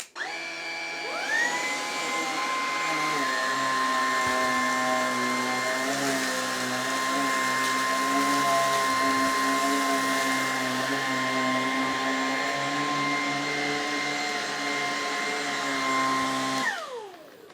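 Lupe Pure cordless vacuum cleaner on thick pile carpet at default settings, a loud steady whirring drone that spins up at the start, holds evenly close to the microphone, then winds down at the end.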